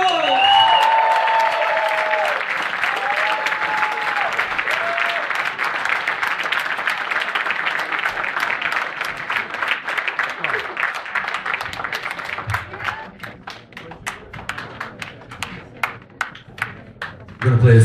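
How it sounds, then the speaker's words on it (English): A concert audience at a show applauds and cheers loudly in a dense, sustained wash, then the clapping thins into scattered claps near the end. "I want you please to make noise and welcome Debbie from the Mars Chronicle!"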